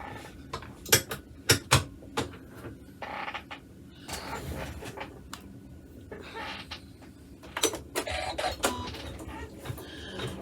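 An embroidery machine stitches fabric held in a hoop, giving a run of sharp mechanical clicks and clattering taps, louder bursts near the start and again toward the end, with no talking.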